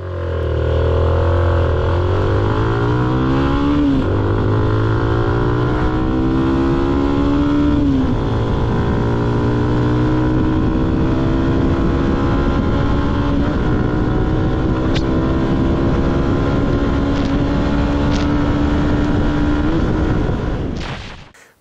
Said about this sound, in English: this is a nice and alive engine of 174 cubics with a lot of technology for underbone on it